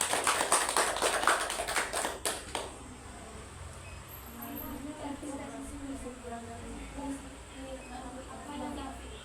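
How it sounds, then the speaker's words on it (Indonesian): A small group gives brief, scattered applause, a few seconds of close sharp claps that quickly die away, followed by quiet talking in the room. "beri aplaus untuk kita semuanya"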